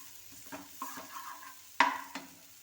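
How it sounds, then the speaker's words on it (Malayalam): Chicken pieces dropped into a pan of sizzling, well-cooked masala, with a soft steady fry, stirring scrapes and a sharper splatter as the meat lands, close and moderately quiet. "ഇനി ആ ചിക്കൻ അങ്ങോട്ട് ഇട്ട് കൊടുക്കാം"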